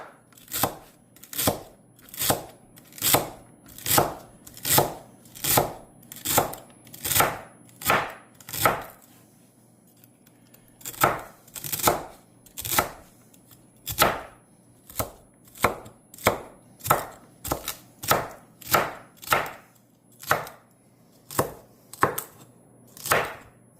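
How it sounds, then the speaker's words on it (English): A knife chops celery for gumbo on a cutting board with sharp, evenly spaced knocks, about two per second. A brief pause falls midway before the steady rhythm picks up again, and no one speaks. "since the celery is a little tougher than the onion, cut it a little smaller."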